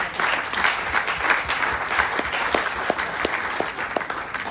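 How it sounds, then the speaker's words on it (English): An audience gives a sustained round of applause at a live event in Shanghai, a steady wash of many hands clapping, fairly loud and continuous throughout with no talk over it. "and a round of applause."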